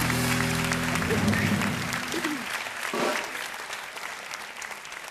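Studio audience applause on a Turkish TV talk show, a dense, even wash of clapping that carries on steadily at moderate level, with a voice briefly audible near the start.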